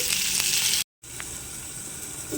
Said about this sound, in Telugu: ఇవి మూత పెట్టి ఏగనిద్దామండి